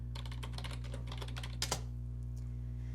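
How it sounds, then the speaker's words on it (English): Rapid keystrokes on a computer keyboard as search terms for home renovation are entered, a quick uneven run of clicks over a steady low hum, ending in a couple of sharper taps before going quiet. "we're going to start typing in those combinations of terms"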